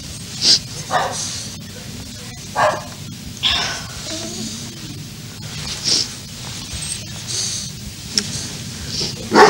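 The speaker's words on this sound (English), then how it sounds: "One of the dogs upset." An upset dog barks in sharp, scattered yips and barks, close and fairly loud over a low background hum, with brief pauses between outbursts.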